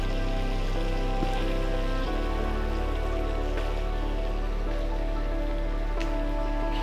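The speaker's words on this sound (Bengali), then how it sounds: "ফ্লেমটা কিন্তু হাই থাকবে। মাংসটা একটু ভেজে নিতে হবে।" Chicken meat fries in a pan over a high flame, giving a loud, continuous, dense sizzle that crackles steadily throughout with no pauses.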